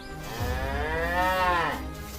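A black and white dairy cow grazing in a green valley gives one long, drawn-out moo that swells and fades, loud and close, with no other sounds around it.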